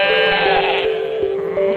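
Goat in a Hindi cartoon story gives a single drawn-out, wavering bleat, loud and close, alone with no talk.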